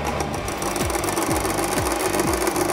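An electric mixer whips egg whites for Italian meringue as hot sugar syrup is poured in, giving a steady, loud motor whir with a regular rhythmic beat from the beaters, close and continuous with no talk.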